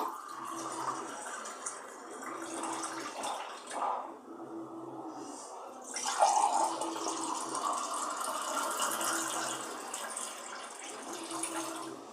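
Cold water is poured into amla detox juice, making a faint, steady trickling with a brief break in the middle before the flow resumes.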